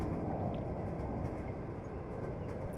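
A train rolls past with a steady, dense rumble of wheels and carriages that stays loud and unbroken throughout, with no voices.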